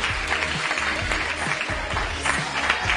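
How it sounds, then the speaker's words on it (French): Applause from an audience in a restaurant, a few seconds of steady clapping with crowd murmur and low rumbling underneath. "je pense qu'il mérite de donner l'applaudissement"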